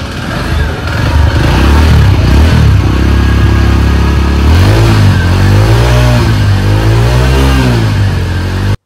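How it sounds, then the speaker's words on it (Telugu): A TVS Star City Plus motorcycle engine idles close by, then revs up and down several times in rising and falling surges, loud and continuous with no talking. "ఒకసారి బైక్ ఇంజన్ కూడా ఎలా ఉంటుందో సౌండ్ కూడా ఒకసారి మీరే వినండి"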